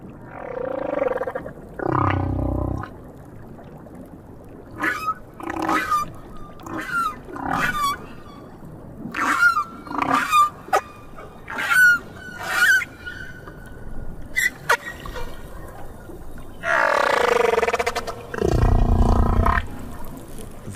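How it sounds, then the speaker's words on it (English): Humpback-style whale song from the South Pacific: deep moans, rising whoops and short squeaky calls arrive in separate phrases with pauses between them. It resonates underwater, fairly loud, with no speech. "The song that Petty Point hears in the South Pacific is wondrous."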